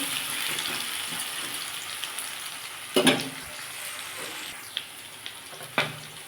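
Potatoes, ridge gourd and prawns fry in a pan with a continuous close sizzle, broken by a few sharp stirring clatters and taps against the pan, with no one talking.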